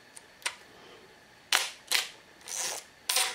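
A Zenit E film SLR camera fires its shutter at fast speeds, giving several sharp mechanical clacks: two light ones, then a louder irregular series of four close, crisp snaps.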